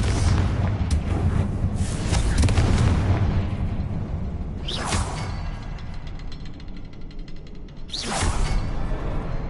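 Confringo fire spell cast in the video game Hogwarts Legacy, with sharp whooshing blasts and booming explosive bursts, a big one early and two more later, each with a rumbling tail and no talk.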